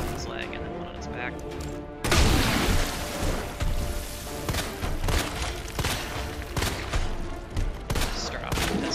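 Pistol gunfire in Resident Evil 2, a string of sharp, punchy shots fired at a steady pace over a rumbling game soundscape, loud and close, starting abruptly after a quieter opening with low background noise.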